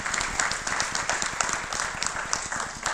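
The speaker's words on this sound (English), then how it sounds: "If you give them a big round of applause" An audience at a children's Christmas program gives a round of applause, with many hands clapping in a lively, continuous patter and crisp individual claps standing out.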